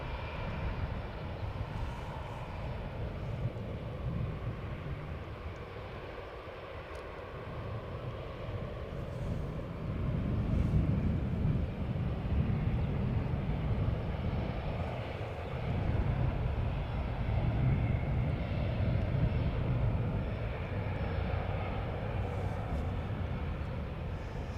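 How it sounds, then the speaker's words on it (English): An Emirates A380 airliner taxiing at Amsterdam Schiphol Airport, a steady low engine rumble and roar heard from a distance, swelling slightly louder midway and holding on with no talk. "Now, the Emirates A380 still has a long way to go, has to taxi along this line of trees back to the main platform area"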